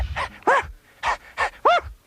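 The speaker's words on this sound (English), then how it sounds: "He let out a loving howl." A cartoon dog pants in rapid, loud bursts, five short breathy huffs with voiced yelps in between, close and alone.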